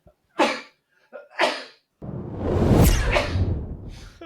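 Two short sharp inhalations build up, then a loud, close sneeze bursts out, trailing into a breathy exhale.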